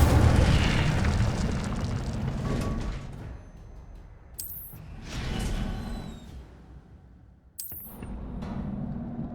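Incendio fire spell blasts in a Harry Potter video game: several loud whooshing bursts of flame, the first one rumbling and long, the later ones separated by sharp bright cracks and quieter pauses.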